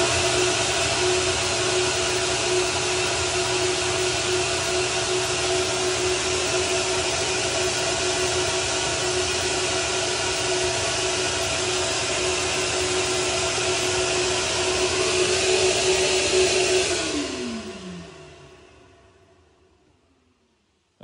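An airflow bench pulls a steady loud roar of air through a wide-open throttle body on an RX390 engine part, holding constant for about seventeen seconds before spinning down and fading to quiet.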